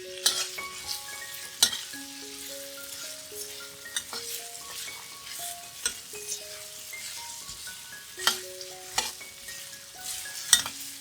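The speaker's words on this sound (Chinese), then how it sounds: "将多余的油取出，放入马铃薯丝炒一炒" Shredded potatoes stir-fried in a pan after excess oil is drained off, a steady sizzle under repeated scraping and clinking of a spatula against the metal, close and moderately loud, with no voices.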